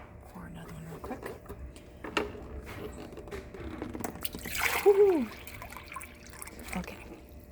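Water poured from a cup into a pot of tomato soup makes a brief splash and gurgle partway through, under a speaking voice and kitchen bustle.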